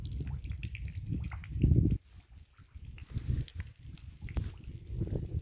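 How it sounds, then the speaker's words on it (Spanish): Water mixed with crude oil pours steadily from an oil field battery in Lot 192, making a continuous low, rushing trickle and splash that swells and dips without pause. "Está chorreando bastante agua con crudo."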